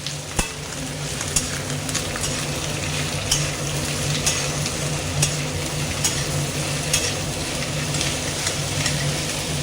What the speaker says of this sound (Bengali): তেল গরমে বসিয়েছি, এদিকে প্রেশারে মাটন রান্না হচ্ছে, আর এখানে আমি একটা গ্রেভি বানিয়ে নেবো মাটনের